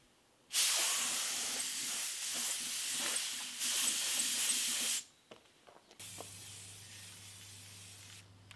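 A spray gun lays down primer on drill press parts in long, loud, steady hissing bursts, with a brief pause before a quieter, even stream of spray and a low steady hum beneath it.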